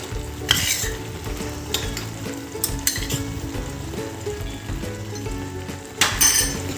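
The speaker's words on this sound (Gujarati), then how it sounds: "હવે આને બધાને વ્યવસ્થિત મિક્સ કરી લેવાનું" Potatoes with ground cashew and melon seed powder are stirred in a hot pan for Punjabi-style potatoes, giving steady sizzling and frying with scraping spoon strokes and a few metal clinks against the pan.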